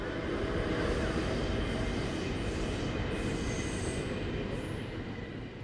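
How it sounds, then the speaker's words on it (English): A train rumbles past in a loud, steady roar, with thin high-pitched brake squeals rising briefly near the end. "one of the trains was sort of braking and had some very high tones"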